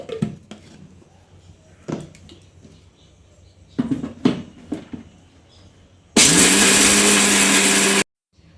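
A kitchen mixer grinder whirs loudly and steadily for about two seconds, grinding coconut for a ragi dosa chutney, then cuts off abruptly, after scattered clinks and handling sounds of dishes and the jar being set up.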